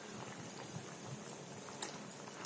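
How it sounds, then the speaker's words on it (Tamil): A pot of fried egg curry with added water bubbles at a steady boil, a close, continuous mix of popping and gurgling with no voices over it. "தண்ணி சேர்த்துட்டு நல்லா கொதிக்க விடுங்க"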